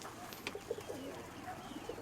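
Soft, low pigeon cooing in short repeated bursts, fairly faint against a quiet background with a few light chirps.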